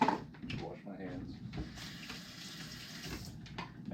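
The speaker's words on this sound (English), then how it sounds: "Wash my hands." Tap water runs into a kitchen sink as hands are washed, a soft steady splash with light handling clatter, heard while someone talks quietly.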